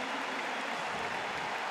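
Crowd of thousands at the Berlin Olympic Stadium cheering a German high jumper after a clearance, a dense, continuous roar of applause and cheers, distant and even across the short stretch.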